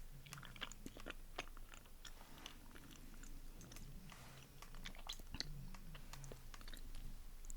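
Chewy taro-flavored candy being chewed close up, soft sticky mouth sounds with small clicks and crunchy bites repeating quietly and steadily.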